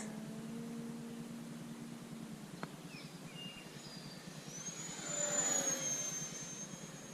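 Freewing A-10 Thunderbolt II twin 64mm electric ducted-fan RC jet passes overhead, a steady whooshing whine that swells and rises in pitch as it comes closer near the end, with light background noise.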